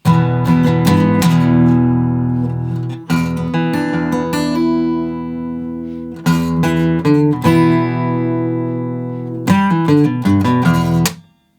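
Strummed guitar playing the short instrumental interlude of a song, with ringing chords and a few quick rhythmic bursts, loud and close with no voice.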